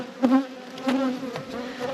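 Honey bees buzz steadily around hive nucs, a close, continuous drone with a few louder passes as single bees fly near.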